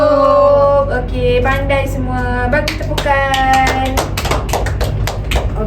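A class of young pupils claps together in an Islamic studies lesson, with a dense patter of many small hands building over a few seconds, mixed with sustained tonal voices and room sound.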